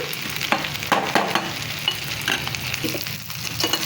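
Chicken fry for an Andhra-style meal sizzles steadily in a pan, a close, continuous hiss broken by several sharp scrapes and knocks from a spoon stirring it.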